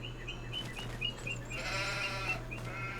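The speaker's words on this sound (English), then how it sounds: "Oh, baby sheep." Lamb bleating in The Sims 4, a string of short high cries repeating several times over a steady low game hum, fairly close and clear.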